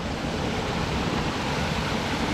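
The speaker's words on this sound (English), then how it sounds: "there's just tons of little waterfalls and stuff right down here." Small waterfalls churning in a Scottish river, a steady, dense rushing roar of water heard up close and loud throughout, with no voices.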